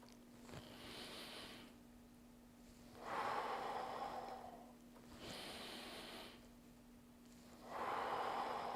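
Heavy rhythmic breathing during a resistance band strength workout, long drawn exhales alternating with quieter inhales in a slow, even cycle, close and fairly soft, with a faint steady hum underneath.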